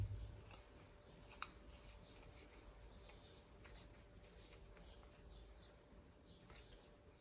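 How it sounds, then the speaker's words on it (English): Scissors snipping paper to shape a craft bear's ear, quick soft cuts repeating in an irregular run, quiet and close over a faint background hum. "Then we cut the other ear."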